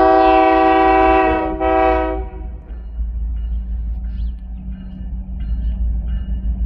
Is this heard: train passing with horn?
yes